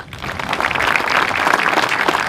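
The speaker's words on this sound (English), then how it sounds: "let's give each and every one a round of applause as I call them out" Audience applause rings out at a veterans memorial early college high school groundbreaking ceremony in Brownsville, Texas, a dense, steady wash of many hands clapping that swells slightly and holds throughout.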